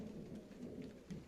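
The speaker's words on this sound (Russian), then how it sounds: "Так, немножко вот моросит, но не сильно." Light drizzle during a thunderstorm patters softly and steadily, faint and distant, with a low rumble of thunder underneath and small swells of noise; nobody speaks.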